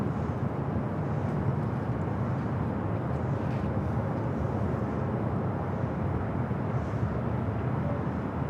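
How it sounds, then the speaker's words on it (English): A Cargolux cargo jet taking off from LAX runway 25 left produces a continuous, dense low-frequency roar, steady and somewhat distant, with no voices over it. "Stowing in that Cargolux Queen, going to be taking off from 25 left, heading to Luxembourg."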